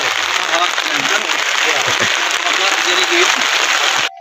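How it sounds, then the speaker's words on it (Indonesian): Steady rain falls on a farm field in a Dayak swidden plot, a dense, even hiss of drops across the whole clip with faint voices underneath, ending abruptly. "Cuaca hujan."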